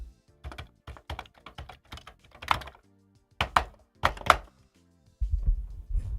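Clicky keystrokes on a Commodore 64 keyboard come in quick irregular bursts with short pauses between them, close and fairly loud, ending in a low thumping rumble.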